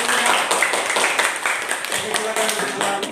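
A classroom audience claps after a student presentation, a short spell of scattered hand clapping heard up close while people talk over it.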